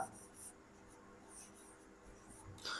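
Chalk or marker scratching across a board during a Hindi-to-English grammar lesson, a few short scraping strokes over a quiet room, close and moderately soft.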